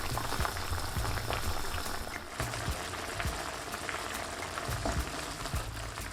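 Green peas and parboiled potatoes simmer in stock in a pot, giving a steady close bubbling and soft popping throughout, alone with no talk.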